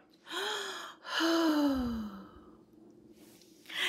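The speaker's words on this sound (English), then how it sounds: "take a breath" A voice takes a slow, audible breath in and lets out a long sigh, close and clear in a quiet room, with a second short breath at the end.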